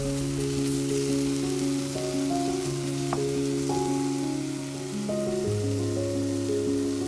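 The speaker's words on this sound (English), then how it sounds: "And simmer for another 5 minutes." Cranberry pork simmers in a pan with a steady, gentle sizzle and bubbling, heard under soft, sustained tonal sounds and one brief clink.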